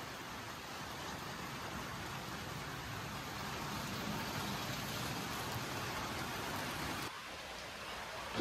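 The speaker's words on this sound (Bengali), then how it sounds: "এখনো বৃষ্টি কমে নাই" Heavy rain falls without a break on a rainy day, making a dense, steady hiss that eases slightly near the end.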